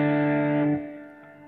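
An electric guitar played through a Ventris Dual Reverb pedal on a hall reverb setting rings out as a sustained chord, then cuts off and leaves a soft reverb tail fading away.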